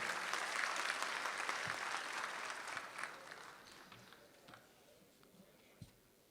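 Audience at a Republic Day kavi sammelan and mushaira applauding the sponsors, a faint crowd of clapping that fades steadily, leaving a few isolated claps near the end.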